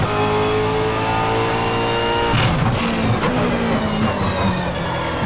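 A Reiza Super V8 race car at Bathurst in a racing game drones at high revs near the limiter in fifth gear, a loud steady engine whine that drops with an upshift and then climbs again.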